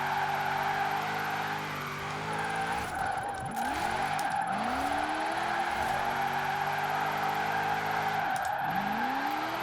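An all-wheel-drive car drifts through a drift zone in Forza Horizon 4, its engine droning while tires squeal in long, rising and falling wails, each slide cut off and resumed.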